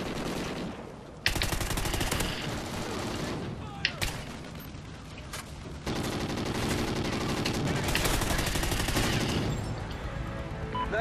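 Dense, continuous machine gun fire from a huge chainsaw-like gun in Call of Duty: Ghosts, loud and rapid with only brief gaps, over a busy backdrop of game sounds.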